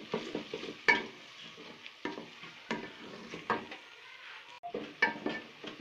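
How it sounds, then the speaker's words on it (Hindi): Finely chopped onions frying in a pan until browned for a little watermelon bhurta, with repeated scraping and stirring strokes of a utensil against the pan over a soft sizzle, close and steady. "प्याजों को अच्छी तरह ब्राउन करेंगे।"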